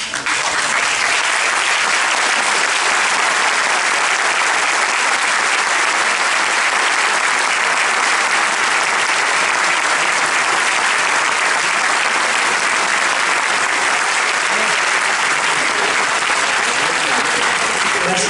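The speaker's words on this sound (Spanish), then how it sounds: "Le voy a pedir que se paren y si todos le damos un fuertísimo aplauso" A large seated audience at a book presentation gives a guest from Rosario a loud, sustained round of applause, dense and unbroken for the whole stretch with no speech over it.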